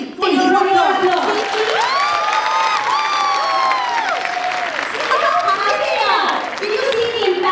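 School annual function audience breaking into loud applause and cheering, dense clapping with whoops and children's shouts over a sustained roar, close and full.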